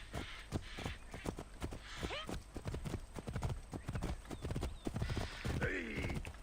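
A horse's hooves clip-clop in a quick, steady gallop with an occasional whinny, set in the video game Assassin's Creed Origins, heard up close while a voice talks over it.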